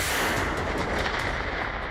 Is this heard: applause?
no